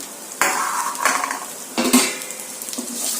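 Onions, green chilies and curry leaves fry in oil in a nonstick pan, giving a soft steady sizzle broken by a few sharp scrapes and clinks of a stirring spoon against the pan.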